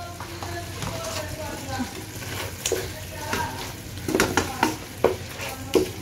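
Red chili, turmeric and cumin powder get stirred into beef karahi frying in a pan, a steady sizzle broken by rhythmic scraping knocks of the spoon that grow louder toward the end.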